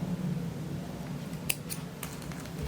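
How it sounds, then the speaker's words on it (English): Scissors snipping through crochet yarn: a few quick, crisp close-up cuts against quiet room tone, with no talking. "I'll go and cut my yarn"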